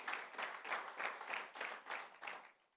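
A church congregation at a Sunday service claps in unison, with rhythmic waves of hands striking together about every third of a second, faint and somewhat distant, fading slightly at the close.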